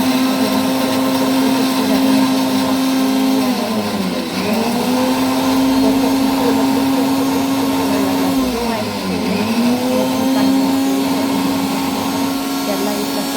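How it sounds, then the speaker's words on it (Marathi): A kitchen mixer grinder whirs steadily while chopping ginger and garlic, a loud continuous motor drone whose pitch dips briefly twice as the load shifts, running alone without talk. "इथे मी आलं आणि लसूण बारीक करून घेते मिक्सरला."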